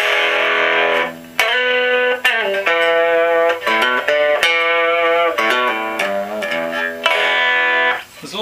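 An electric guitar plays through a homemade amplifier built from an old transistor radio and turned up to full volume, giving a loud, slightly overdriven tone with ringing chords and notes strummed in a steady sequence.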